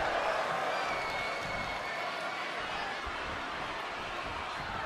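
Steady, dense crowd roar from a virtual wrestling arena in the WWE 2K20 video game, a continuous wash of cheering and murmur that stays even and moderately loud throughout.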